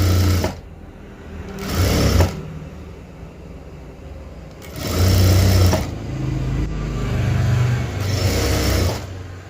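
Sewing machine stitching along the folded edge of a fabric cross piece, running in two loud, close bursts with a short pause between them, alone without voices.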